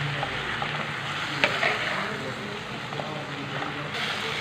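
Minced chicken with roasted crushed cumin, masala powder and salt sizzles steadily in a pan while being stirred, with a constant close frying hiss and occasional scraping knocks, no voices.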